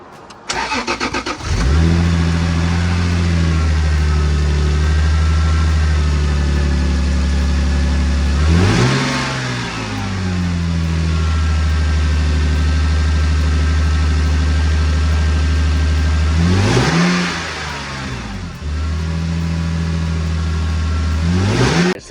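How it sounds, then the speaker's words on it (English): A Lexus IS300 fitted with a new HPS intake hose cranks and catches, then idles with a deep steady drone, revving up twice with rising surges before settling back; loud and close, no voices. "let's start the car and see what it sounds like"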